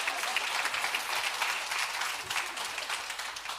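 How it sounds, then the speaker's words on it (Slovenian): An audience at a partnership project closing event breaks into brief, dense applause, a continuous wash of many hands clapping at moderate distance throughout. "dajte en aplavz."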